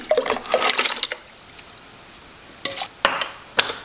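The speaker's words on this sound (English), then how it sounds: "Add my potatoes." Potatoes dropped into a pot of cold water make a burst of splashing and clunks, then a pause, then three more separate splashes nearby.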